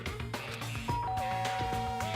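In the video game Danganronpa, a doorbell chime sounds over busy background music, a clear two-note ding-dong ringing through the middle of the passage.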